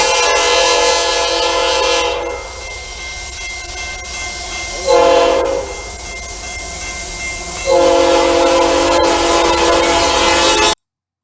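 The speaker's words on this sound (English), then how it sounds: "I believe this to be a fouled Nathan K5LA or a Nathan P5" A Norfolk Southern freight train led by GE AC6M and GEVO locomotives rolls past, blowing a fouled Nathan air horn in several loud, sour blasts over steady rumbling wheels and wagon noise.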